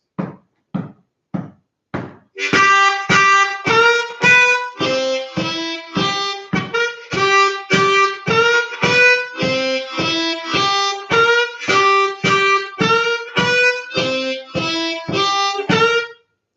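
A harmonica plays a bluesy lick: a few short separate notes, then a steady run of quick repeated arpeggio notes with bends, loud and close.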